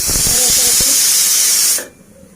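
A pressure cooker cooking chana dal lets out a loud, close, continuous steam hiss that cuts off abruptly near the end, leaving a quiet room.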